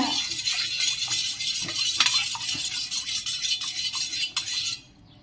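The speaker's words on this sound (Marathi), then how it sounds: "तर चला आता परत मिक्स करूया" A spoon stirs kokum sherbet mixture in a vessel, giving steady, close scraping and clinking strokes that continue briskly before stopping abruptly near the end.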